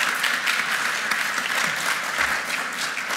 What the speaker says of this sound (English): give a round of applause for Don, just to recognize.